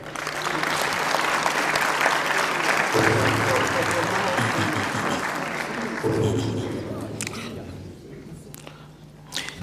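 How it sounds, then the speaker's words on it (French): Sustained audience applause greets a ministerial candidate at a debate, filling the hall with dense clapping and crowd noise, while a voice speaks over it at moments before the clapping thins out near the end. "Je vous demande d'accueillir notre second candidat, qui est le ministre, l'honorable Moussa Faki Mahamat, sous vos applaudissements, s'il vous plaît."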